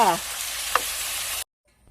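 Pork belly with pineapple and spring onion stir-frying in a pan, a steady sizzle with a brief clink of a utensil, then cutting off abruptly into near silence; a short bit of speech at the start.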